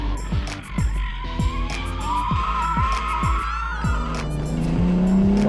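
BMW 2 Series in Sport Plus mode accelerating hard, engine repeatedly climbing through gears with sharp shift drops, tires squealing, close and loud throughout.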